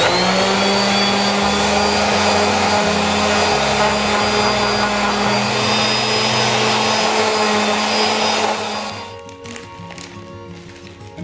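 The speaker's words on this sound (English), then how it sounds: "I'm going to give them one more pass with a sander before we go to stain and clear coat." Power sander smoothing bourbon barrel wood coaster blanks, a loud, steady electric whir with a humming motor tone that runs for about eight seconds before cutting out and winding down.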